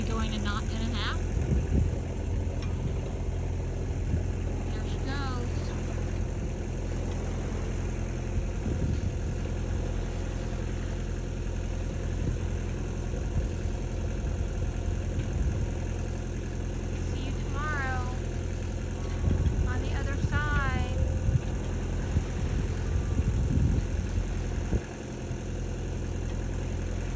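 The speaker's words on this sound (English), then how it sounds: "Engine's on because otherwise we'd be going a knot and a half." The auxiliary engine of a sailboat crossing the sea drones steadily and evenly at a moderate level the whole time, with bird-like chirps now and then on top.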